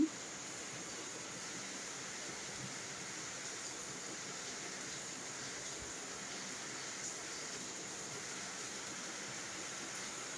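Steady rain falling outside on an early morning after a night of rain, with water spraying onto a balcony; a constant, even hiss continues without pause, moderately loud and unbroken.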